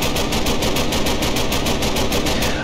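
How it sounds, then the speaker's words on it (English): Rapid automatic AK fire from a Minecraft gun mod rattles in a steady, evenly spaced burst of shots lasting the whole moment, loud and continuous with no voices. "Normal AK."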